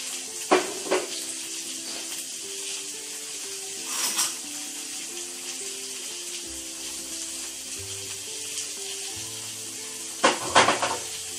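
Onions fry in oil with mustard seeds, a soft steady sizzle beneath gentle background music, with a few sharp scraping and clinking stir sounds at intervals.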